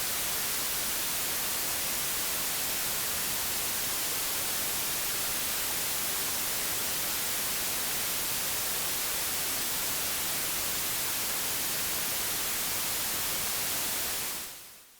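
Steady broadband hiss from the cleaner noise output of a Befaco percussion module in VCV Rack, constant and full for about fourteen seconds before cutting off abruptly at the end.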